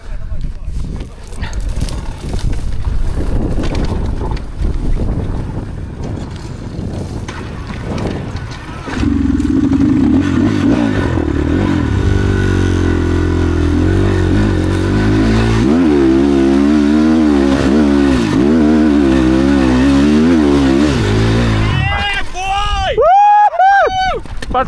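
A GEON GNS 300R hard enduro motorcycle revving in a sandy quarry, the engine rising and falling in repeated throttle blips at close range, with people talking and shouting over it.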